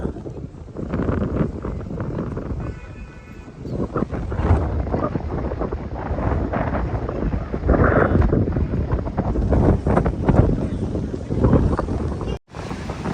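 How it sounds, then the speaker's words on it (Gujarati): Strong wind at an overflowing dam roars steadily and buffets the microphone, with a low rumbling churn throughout and a brief dropout near the end. "હવા પણ ચાલી રહી છે વધારે"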